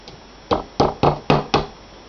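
Mug hooks being hammered into a canvas produce five sharp, close taps in quick, slightly uneven succession, each dying away quickly, with no voices.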